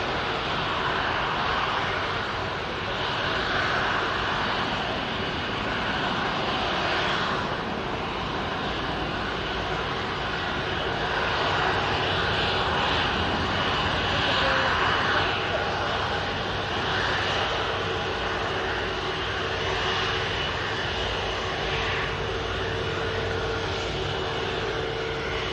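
Passenger airliner on approach to touch down at Manchester Airport, a steady broad engine roar that swells gently and holds for the whole stretch, moderately distant, with faint talk underneath.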